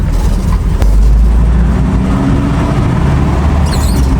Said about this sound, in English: I'm driving a Siyaya.